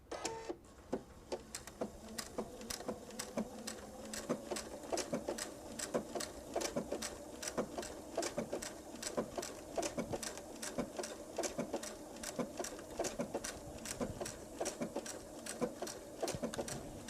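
A sewing machine working on a bench pillow runs through a long, even series of sharp rhythmic ticks and clatters, steady and close, with a faint hum beneath and no talking.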